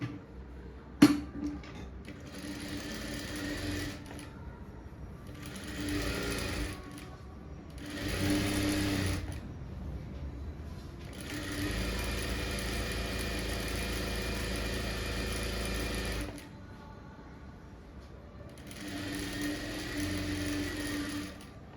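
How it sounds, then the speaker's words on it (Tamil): A sewing machine stitches a blouse sleeve with lining cloth, running in several steady mechanical bursts separated by short pauses, close and fairly loud with no talking. "அதேமாரி இந்த கையும் தைச்சி எடுத்துக்கோங்க."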